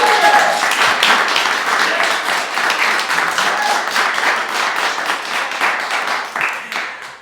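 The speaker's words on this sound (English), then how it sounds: "All right, let's clap." An audience claps after a child reads a short poem, a steady crowd applause lasting several seconds, close and fairly loud, fading slightly near the end.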